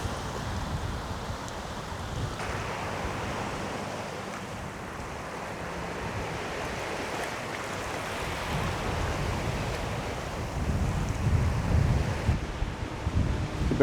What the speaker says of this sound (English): It's a bit windy, so I don't know how